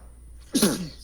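A single sharp sneeze bursts out close to the mic during a wrestling interview, rising suddenly out of quiet and trailing off within half a second.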